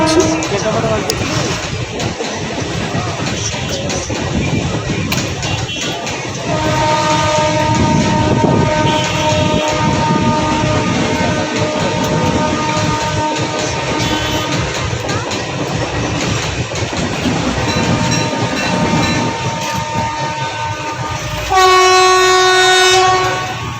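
A train pulls into Puri station in Odisha, its loud steady rumble and clatter running throughout, with sustained horn blasts sounding in the middle and again near the end.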